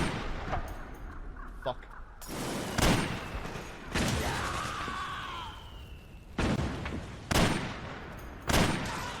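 Metal Gear Solid 4 gunfire: sharp loud bursts of shots at intervals, some short volleys, with a voice speaking and cursing between them.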